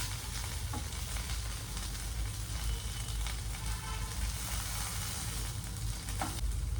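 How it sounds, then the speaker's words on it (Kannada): Soya tikki frying in a pan, a steady dense sizzle that stays loud and continuous throughout with a few faint clicks of handling, no talking. "ಬೆಂದಿರೋದನ್ನ ಇನ್ನೊಂದು ಸೈಡ್ ಬೇಯಿಸಿ."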